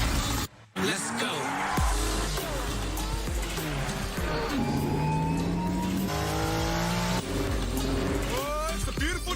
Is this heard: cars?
yes